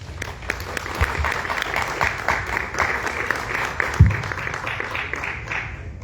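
Audience applause at a book presentation, steady sustained clapping from a seated crowd lasting several seconds at moderate volume with no talking over it.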